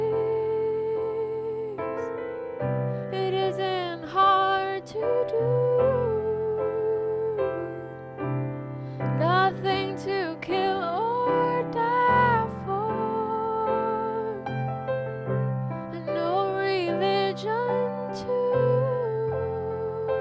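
Jazzy extended chords reharmonizing a song ring out on a single instrument, changing every couple of seconds with light melodic fills at the top, no voices present.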